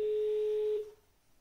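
A single steady electronic ringback tone plays through a JBL Go 2 speaker for under a second, then cuts off into quiet.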